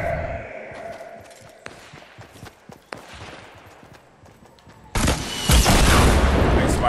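Gunfire in the Fortnite game: scattered sharp shots and thumps early on, then a sudden loud sustained burst of noise from about five seconds on.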